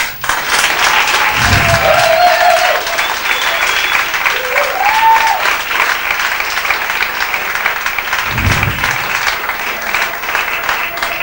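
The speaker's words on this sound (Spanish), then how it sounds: "recibamos con un gran aplauso a la señorita Batato Barea" Loud, sustained applause from an audience welcoming Batato Barea, a dance performer at a queer arts show, filling the whole stretch with dense clapping and a few brief whistles or cheers rising through it.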